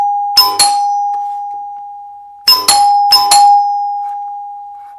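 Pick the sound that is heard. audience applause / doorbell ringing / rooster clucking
doorbell ringing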